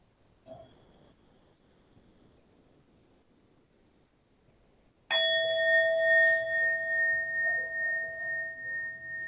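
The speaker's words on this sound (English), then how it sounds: "And then listen for the bell." A meditation bell struck once at the close of a guided session rings out after several seconds of near silence, a clear sustained tone with bright overtones that slowly decays.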